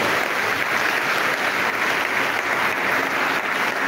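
A church congregation at Sunday Mass applauds loudly, a dense, even burst of clapping that holds steady without pause and without voices on top.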